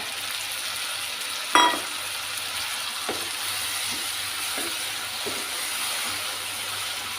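Tomatoes with green chili are stirred into fried onion and spices in a pan: a soft, steady sizzle runs throughout, broken by a sharp utensil knock early on and several light scraping strokes.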